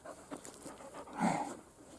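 A young eight-month-old Laika dog pants during play, with quick soft breaths and a louder huffing burst near the close, heard up close.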